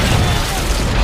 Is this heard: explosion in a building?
yes